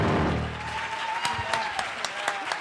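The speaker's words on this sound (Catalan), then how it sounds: "Un aplaudiment per la Laura" Audience applause for Laura at a live science experiments show, a brief burst of clapping that fades out with a few scattered claps and some voices underneath.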